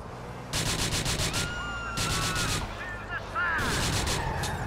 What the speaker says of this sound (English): I was trying to use the guns.